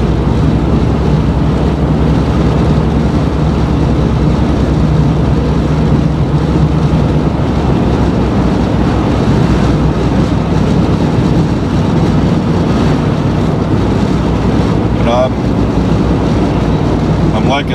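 A Chevrolet Blazer truck on the road, its engine and road noise forming a loud, continuous low rumble with wind buffeting the microphone, steady throughout with no pauses.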